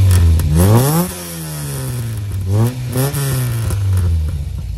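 A Volkswagen Golf Mk1 GTI engine revs up and drops back twice, its note rising and falling smoothly, loud and nearby with a steady running hum between revs.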